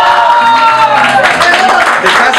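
A studio audience applauds on a Spanish TV variety show, dense and loud throughout, while a host's voice carries over the clapping.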